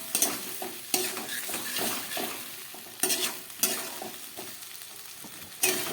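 Onion and tomato fry in a pan while being stirred vigorously: sharp spatula scrapes recur every second or so over a softer, ongoing sizzle, close and without voices.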